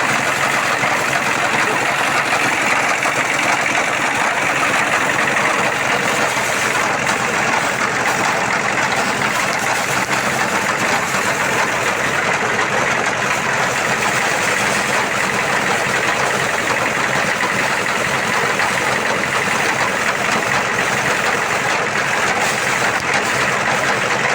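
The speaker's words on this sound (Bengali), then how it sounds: "কত সুন্দর একটা মেশিন ধান মারার মেশিন" An engine-driven paddy threshing machine runs steadily in a village, giving a continuous loud mechanical drone with a whirring hum. The sound holds even throughout, with no speech.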